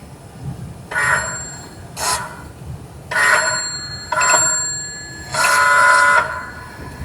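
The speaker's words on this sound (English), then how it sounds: "if I push the button on this end, it sets off the bell at the receiver" An electric bell, triggered wirelessly by a push button, rings in five separate loud bursts of about half a second to a second each, close by and with nothing else heard.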